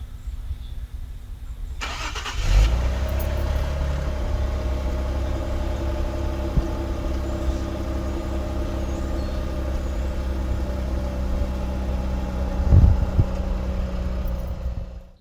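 A 2017 Infiniti Q50S on its stock exhaust cranks and fires up, then settles into a smooth, low, steady idle heard close, with a brief blip near the end and no talking.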